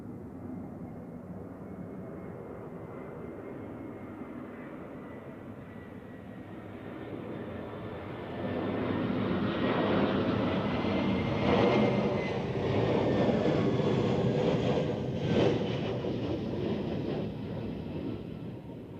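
A crabbing airliner approaches Zurich Airport in a strong crosswind, its broad engine roar building steadily from a moderate distance to a loud, close rumble that holds through the second half.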